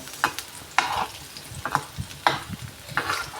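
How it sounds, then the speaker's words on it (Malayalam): Small balls of banana dough fry in hot oil, with a bright sizzle pulsing in short bursts about every half second, each flaring as a ball drops or is turned. "ഇനി ഇത് നമുക്ക് കുറേശ്ശെ ഉരുളാക്കിയാണ്ട് പൊരിച്ചെടുക്കുക"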